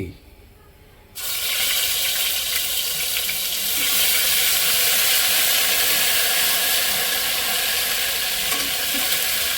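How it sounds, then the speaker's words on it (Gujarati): Ginger-chili paste hits hot oil with a sudden loud, broad sizzle that holds steady and fills the kitchen, with a faint background voice beforehand, while a hotel-style veg biryani is being cooked. "હવે આમાં આપણે નાખી દઈશું આદુ મરચાની પેસ્ટ"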